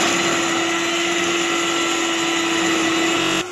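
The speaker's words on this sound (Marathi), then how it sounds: "हे मस्तपैकी व्हिप करून घ्या, 5 ते 6 मिनटं तुम्हाला व्हिप करावं लागेल" An electric beater whips chilled whipping cream and condensed milk for ice cream. Its motor gives a loud, close and steady whir that holds an even pitch throughout, then stops abruptly at the end.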